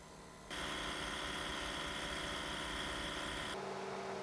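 Portable air compressors, including a VVOR unit, inflating car tyres from 25 to 40 PSI, a steady buzzing motor drone that starts abruptly and cuts out near the end, close and alone.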